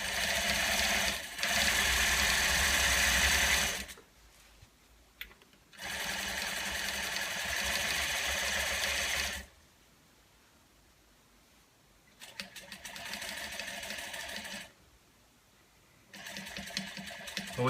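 A sewing machine stitching a fabric valance runs in steady, close bursts of rapid mechanical whirring and clatter, separated by pauses of near silence.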